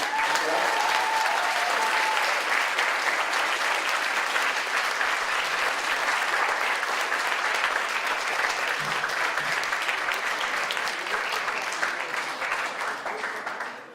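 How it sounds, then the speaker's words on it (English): Sustained, loud applause from a conference audience at the end of a keynote speech on Oceania, steady and dense clapping throughout before tapering slightly at the very end. "That was comfortably the loudest, most rapturous applause we've had all session"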